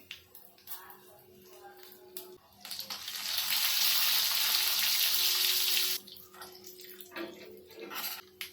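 Asafoetida and urad dal hit hot oil for a tempering, bursting into a loud, steady sizzle that swells for about three seconds before dropping back to quieter crackling.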